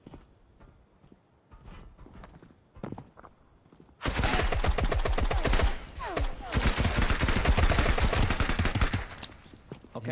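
Bursts of rapid automatic gunfire crackle through a tense video game raid, starting suddenly after quieter footsteps and dense, loud and sustained for several seconds with brief gaps.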